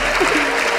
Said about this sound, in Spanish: Fuerte aplauso para mi causa.